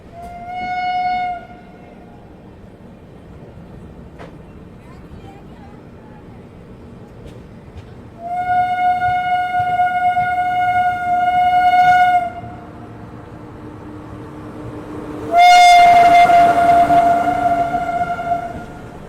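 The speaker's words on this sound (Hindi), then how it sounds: "एक यूनिक लोकोमोटिव के साथ मगध एक्सप्रेस डिपार्चर ले रही है अलीगढ़ रेलवे स्टेशन से" A Magadh Express hauled by an unusual locomotive departs Aligarh railway station, sounding several long horn blasts, the last loud and close, over a steady low rumble of rolling train.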